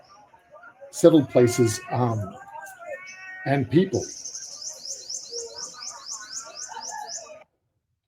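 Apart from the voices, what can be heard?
field recording of Indian myna birds and turtle doves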